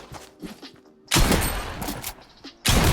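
A pump shotgun fires in a video game, two loud broadband blasts about one and a half seconds apart, each with a sustained roar, with quieter mechanical clicks and thuds between them.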